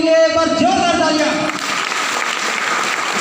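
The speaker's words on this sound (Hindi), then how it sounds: "तो मैं चाहता हूँ इन सभी गुरुओं के लिए एक बार जोरदार तालियां।" Audience applause at a Safe Shop business meeting in India, a broad wash of clapping rising as a man finishes calling for it, then continuing steadily and loudly on its own.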